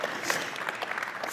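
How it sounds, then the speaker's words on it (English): Brief audience applause at a Volvo Group capital markets day, a soft, somewhat distant patter of many hands lasting barely over a second. "it's worth an applaud"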